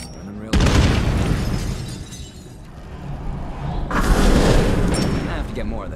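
An explosion goes off in State of Decay 2, a loud broadband blast with shattering debris that rumbles on, then a second heavy burst a few seconds later.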